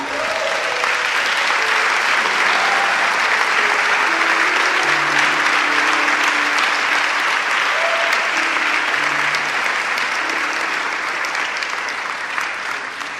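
A church congregation gives a long, loud burst of clapping as an offering of praise to God, steady and full throughout, with scattered voices calling out over it.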